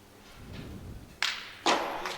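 Pétanque boules striking during an international team final in Sète: two sharp metallic impacts land about half a second apart, loud and close against a low murmur of crowd noise.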